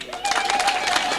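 A brief burst of applause from a small group erupts and holds steady for about a second, fairly close and lively.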